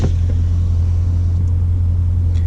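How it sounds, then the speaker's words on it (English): Dodge Challenger SRT 392 with its mid mufflers removed idles with a loud, deep, steady exhaust rumble up close, a constant low drone and no one speaking. "this one, it's a little louder than the stock one just because I took the mid mufflers out"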